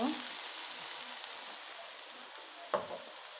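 A steady, soft sizzle of onion, garlic and ginger paste frying in a pan, with a brief scrape of a spoon near the end.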